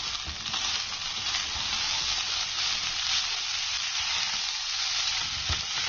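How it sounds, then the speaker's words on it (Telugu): Cooked rice and green peas fry in a pan over medium flame, giving a constant close sizzle with occasional stirring knocks. "ఈ గ్రీన్ పీస్ వేగిన తర్వాత ఇందాక మనం ఉడికించి పెట్టుకున్న అన్నం వేసుకోవాలి"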